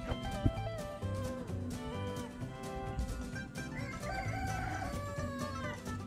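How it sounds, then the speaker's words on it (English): A pet rooster crows at home, its call riding over a dense, steady bed of music-like tonal sound that fills the whole stretch without a break. "Our rooster finally found his voice."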